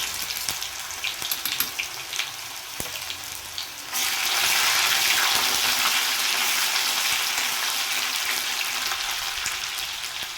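Ginger garlic paste with cumin and fresh bay leaf hits hot oil in a pan for Punjabi chole, with faint crackles before a loud, steady sizzle takes over and continues to the end.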